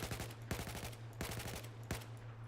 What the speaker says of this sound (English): you're going to want to burst fire